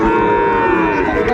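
A Sahiwal bull calf at a crowded livestock market lets out a loud, sustained moo, close and steady, over the murmur of the crowd.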